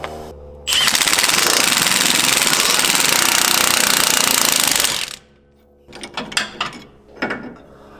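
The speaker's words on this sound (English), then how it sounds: "Then we're going to use our impact wrench to pull it free." An impact wrench pulls a 1350 driveshaft free from the flange on a Jeep JL Wrangler, giving a loud, continuous rattling hammer for about four seconds. Shorter bursts of clanking and mechanical rattles follow after a brief pause.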